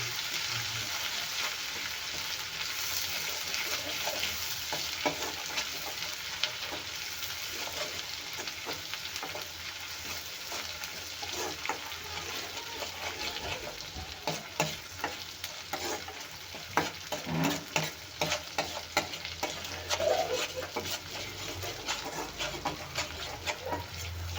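Ginger garlic paste and masala fry in a pan for a Maharashtrian masala curry, with a steady sizzle and the scrape and clatter of a spoon stirring close by.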